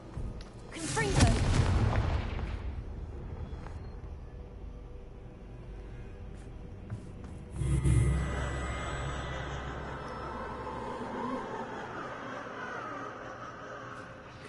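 Confringo blasting-curse explosions go off in the Hogwarts Legacy video game: two heavy booms several seconds apart, each followed by a long, fading rumble.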